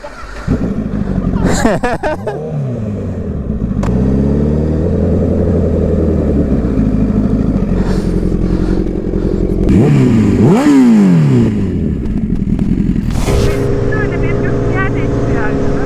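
A motorcycle engine starts with a short clattering crank, then idles loudly and revs in several rising and falling bursts, close by.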